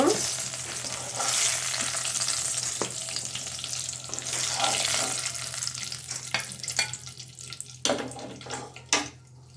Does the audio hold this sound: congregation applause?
no